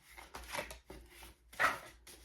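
Tarot cards from an Illuminated Visions deck being shuffled by hand in a few short papery bursts of riffling and sliding, close and fairly quiet, with no talking.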